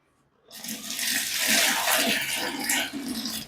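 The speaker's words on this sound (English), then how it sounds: "Just gonna add a little bit of water." Water poured into dry grout powder in a mixing bucket for a tile backsplash job, starting abruptly after a brief silence and then running as a steady close splash and trickle.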